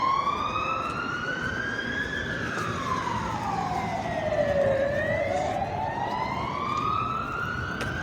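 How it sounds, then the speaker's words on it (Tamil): A police car siren on a Madrid street, a loud wail that rises and falls in long sweeps over steady traffic noise, with no one talking. "ஸோ இது எமர்ஜென்சி போல் போலீஸ் கார் போகுது ஆக்சுவலாக அந்த சைடு"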